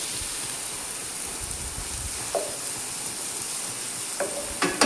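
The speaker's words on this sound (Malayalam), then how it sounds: "നമ്മളത് നല്ലോണം ഇളക്കി കൊടുത്തിട്ട് പിന്നെ ഒന്ന് മൂത്ത് കഴിയുമ്പോൾ" Garlic ginger paste fries in a pan over medium heat, giving a steady, close hissing sizzle, with a few scraping stirs of a utensil near the end.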